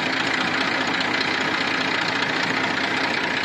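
A tractor engine idling during a driving lesson, a steady close mechanical drone with a low, even rumble and slight rhythmic knock, continuous throughout with no voices.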